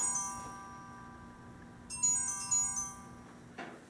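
A mobile phone rings in short electronic bursts near the recording, with a high tonal pattern that stops and restarts over a few seconds; no one speaks.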